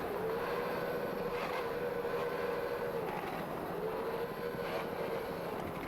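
Twin 200 horsepower Yamaha outboard engines on the racing boat Chiller drone steadily at a moderate distance, a sustained hum with a slight rise and fall in pitch.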